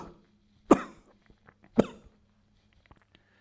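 Two sharp, close coughs about a second apart, each with a short rough tail, followed by quiet breathing; no talking.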